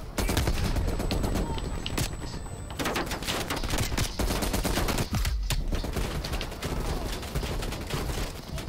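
Rapid gunfire in the Call of Duty Black Ops Cold War campaign, loud and close, with dense bursts of automatic shots and a few short pauses, running continuously with no talk.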